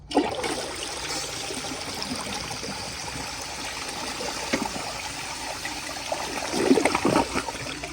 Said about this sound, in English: So let me give it another flush and see how much it'll clear off.